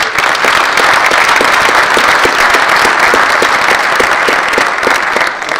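A loud, full round of applause at a teacher of the year award ceremony, dense crowd clapping sustained evenly throughout with a few sharper claps standing out.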